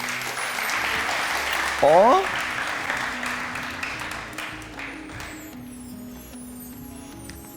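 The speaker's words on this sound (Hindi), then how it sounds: "इनके लिए तालियां।" A TV studio audience applauds for a young debate participant, steady clapping that fades gradually, with a brief rising electronic sweep early on and a voice speaking over it.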